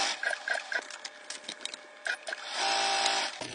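Sewing machine running a top stitch along the edge of a placemat, with short clicking bursts early on followed by a steady, close mechanical whir near the end.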